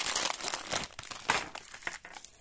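Chocobons candy wrappers are unwrapped while a Christmas yule log is decorated, giving a close series of crisp crinkling and rustling bursts with no talk.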